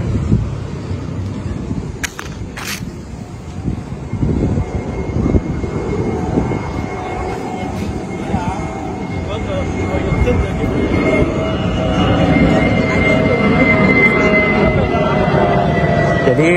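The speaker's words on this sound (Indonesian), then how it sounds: "Anda bisa mendengarkan pesawat terbang ya, karena dekat sini Bandara Udara Internasional Soekarno-Hatta" Airplane engines roar near Soekarno-Hatta International Airport in an outdoor lakeside park setting, a low rumbling drone that steadily grows louder as the aircraft approaches, with people talking over it.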